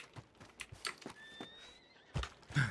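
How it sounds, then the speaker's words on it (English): A horse neighs twice in the Gilded RP video game, a short whinny with a longer, louder call near the end, set among scattered hoof thuds and faint background sounds. "There's a horse right there."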